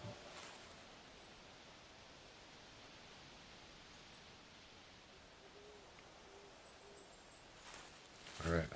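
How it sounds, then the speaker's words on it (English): Faint, hushed ambience in the theHunter Classic hunting game, with soft owl hoots drifting in from a distance over a steady hiss of wind or rustle. "The owl's out. I mean, you can't see him,"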